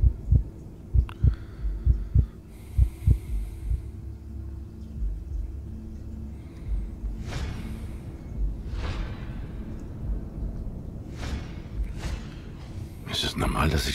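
A boxer's pulse plays in the detective game Blacksad: Under the Skin as a run of regular, heavy heartbeat thumps. The beats then fade under a low rumble while voices talk.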